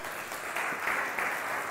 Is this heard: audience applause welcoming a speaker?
yes